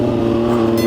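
An MV Agusta Brutale 675 motorcycle with a 110-horsepower engine revving high and steadily, loud and close, a dense continuous engine tone with no talk.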